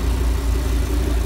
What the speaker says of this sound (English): V10 engine, guys.